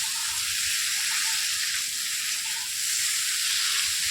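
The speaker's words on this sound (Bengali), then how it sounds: "এই যে মাছের মাথাটাও দিয়ে দিলাম এবার ভালো করে মিশিয়ে" A rohu fish head fries and is mixed in a pan, producing a steady, close, hissing sizzle with soft stirring and no voices.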